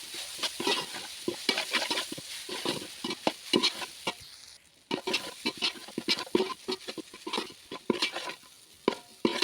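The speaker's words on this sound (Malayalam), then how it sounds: "പൊടിച്ചു വെച്ചിരിക്കുന്ന ഇഡലി ചേർത്ത് കൊടുത്ത് അത്യാവശ്യം നന്നായി ഇളക്കി കൊടുക്കുക" A spoon stirs crumbled idli into masala in a pan with quick, close scraping and clattering strokes over a light sizzle, pausing briefly midway before the stirring picks up again.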